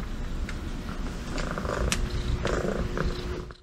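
A female cat purrs close up in a quiet room, a soft continuous rumbling purr lasting a few seconds with no talking.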